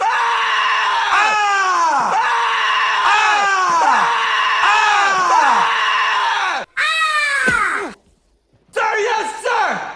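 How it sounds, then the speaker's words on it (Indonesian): A young army recruit screams at full volume on a sergeant's order during Vietnam War military training, repeated long harsh yells in close succession, then a brief cut to silence and another burst of shouting. "sersan menyuruhnya untuk teriak sekencang-kencangnya dan perlihatkan ekspresi seorang pembunuh"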